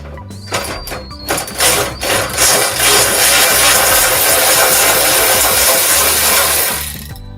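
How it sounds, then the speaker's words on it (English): Power drill running steadily for several seconds to back out a screw during electrical connection work, a loud continuous whirring grind after a few short bursts, with no talking. "We gotta unscrew this."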